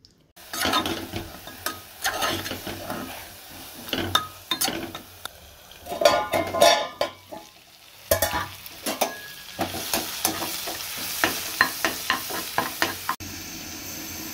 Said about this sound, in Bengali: এদিকে মটর পনিরটা কষানো হচ্ছে।